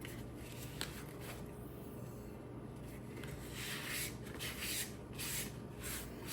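Soft steady rubbing of a microfiber cloth wiping dust and a rubbing-alcohol mixture across houseplant leaves, a close, continuous swishing with slightly louder strokes toward the end, no voices.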